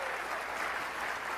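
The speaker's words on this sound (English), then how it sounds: "Let's give another round of applause to the band over here" A large crowd at a Disney fan event applauds the band, a brief, dense burst of clapping at steady volume.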